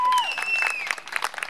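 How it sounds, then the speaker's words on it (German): Applause breaking out at a party, with a whistle-like tone sliding over the opening before scattered claps and cheering voices rise toward the end. "Gib doch mal einen riesengroßen Applaus hier für unsere"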